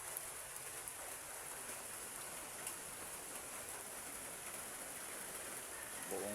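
Heavy typhoon rain falls in a steady, dense hiss that runs without a break, with scattered drips and ticks on a nearby surface and no voices.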